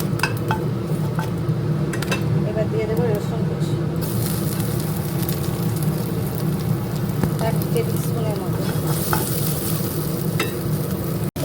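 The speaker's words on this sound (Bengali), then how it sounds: "তেলে শুকনো লঙ্কা জিরে দিয়ে গোটা দিন একটা তেজপাতা" Dry red chillies, cumin seeds and a bay leaf sizzling in hot oil in a pan, a loud continuous crackling fry heard close up under a person talking.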